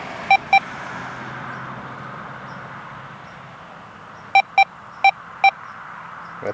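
A Deus 2 metal detector at its default setting sounds two quick, identical high beeps, then after a quiet pause four more spaced beeps over a soft background hiss.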